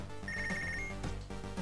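A telephone rings in the video game Punch Club, a short, thin, repeating electronic trill over steady background game music.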